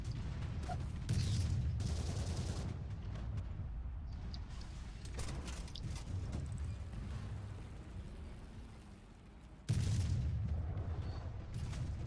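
Tank cannon fire in War Thunder from a Churchill facing a Sherman, heavy booming shots with dense rumbling battle noise throughout and a sharp loud blast near the end.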